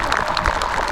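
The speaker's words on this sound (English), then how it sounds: "a great big round of applause" Sustained applause and clapping from a high school football crowd, a continuous dense patter of many hands with no individual voices standing out.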